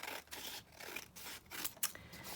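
Scissors cut down a thick paper page for a craft pocket: a few quiet, close snips and slicing scrapes spaced across a short stretch, with no talking.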